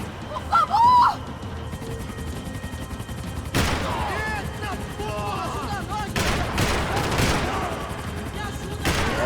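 Gunfire in the shooter game Max Payne 3, bursts of rapid automatic shots and loud cracks over a tense in-game scene, with shouted voices near the start.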